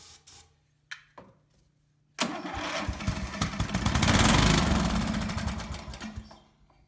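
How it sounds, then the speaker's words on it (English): A small carburetted engine that had sat unused for over a year starts up and runs roughly and loudly, a few short bursts first, then a sustained buzzing run that swells and fades over several seconds. "Okay, so it will run."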